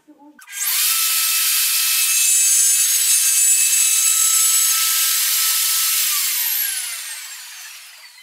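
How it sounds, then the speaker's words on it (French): A woodworking machine cuts into a wooden bottom panel with a loud, steady high-pitched whine, running unbroken for about six seconds before slowly winding down. "donc là c'est l'usinage du plateau bas pour pouvoir accueillir les montants droite et gauche"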